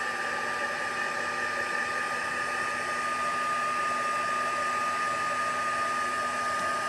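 A craft heat tool blows hot air over tacky adhesive, a continuous even whooshing hum with a steady tone, close and constant throughout with no talking.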